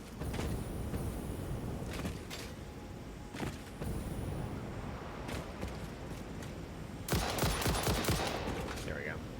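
Rifle gunfire in the Satisfactory video game, a series of sharp shots at irregular intervals with a louder, denser burst near the end, set against a steady background rumble.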